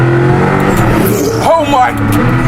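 A Hennessey Venom F5, an 1,800-horsepower hypercar, accelerating at full throttle in second gear: a loud, close engine roar with rising pitch and a brief gear-change dip, with a voice exclaiming over it.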